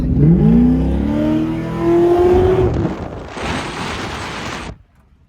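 A C5 Corvette's 6.2 V8 revs hard with a rising, rasping engine note, climbs to the rev limiter and bounces off it with a stuttering buzz, then cuts off abruptly; loud and close.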